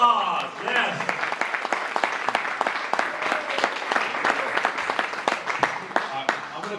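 A conference audience applauds to welcome a speaker, with a dense, steady patter of many hands clapping close by that keeps going throughout. A few voices can be heard underneath it.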